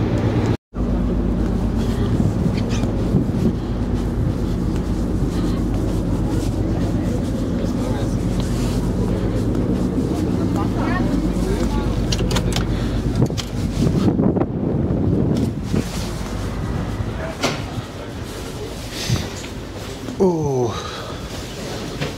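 Steady strong wind buffets the microphone on the outdoor deck of a Color Line ferry in the Oslo Fjord, with a low engine rumble underneath throughout.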